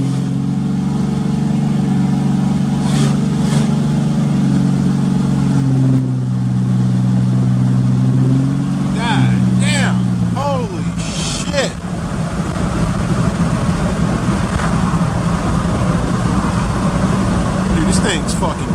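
Cummins 6.7 diesel pickup truck with tuning installed driving on a test drive, steady low engine drone with gear changes under cabin road noise, voices talking over it.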